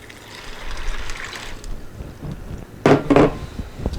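Water pours into a Crock-Pot in a soft trickle that ends in a couple of louder splashy gushes near the end.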